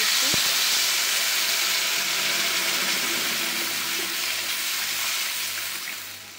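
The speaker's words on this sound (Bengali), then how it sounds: "এই যে দেখো জল ঢেলে দিচ্ছি।" Water poured into a hot pan of frying dal and potatoes, a loud rushing hiss that gradually fades as the pour settles.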